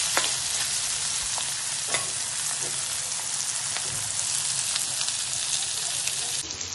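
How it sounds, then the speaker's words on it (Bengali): Onions fry in oil in a pan as they are stirred for Bengali mutton kosha, a dense, close hiss with repeated scraping strokes of the spatula, loud and steady throughout, with no talk. "এবার আমরা পেঁয়াজটাকে দিয়ে দেবো, ভালো করে ভাজবো।"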